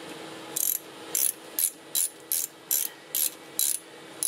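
A ratchet tightens a brake caliper bolt on a 2003 Honda CR-V during a rear brake pad and rotor job, giving nine evenly spaced bursts of close, crisp clicking in a steady rhythm with no talking.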